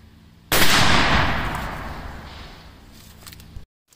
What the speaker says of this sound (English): here's my second shot with a Hornady XTP's 240 grains